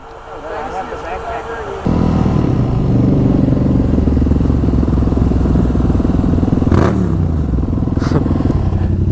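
Throaty motorcycle exhaust running loud and close, a steady rumbling drone that jumps in level after a softer start, with brief revving swells and people talking faintly underneath.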